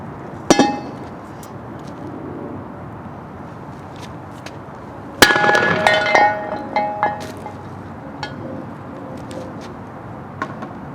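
An 8-pound sledgehammer strikes a Poison Spyder Bombshell differential cover outdoors: one sharp metallic hit, a pause, then a louder blow that rings with clanging, clinking tones. Scattered smaller clinks follow.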